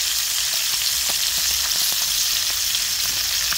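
Galunggong fish frying in oil in a pan, a steady dense sizzle with scattered pops and crackles throughout.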